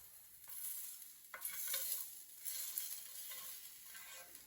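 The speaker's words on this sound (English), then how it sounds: "the meat will stick. So flip it over here." Sujuk meat frying in a pan, with a steady broadband sizzle and a few louder scraping stirs as the pieces are flipped, heard close and without any talking.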